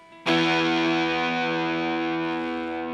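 One big distorted electric guitar chord rings out loud and close, struck once and left to sustain with a slow fade and no voices over it.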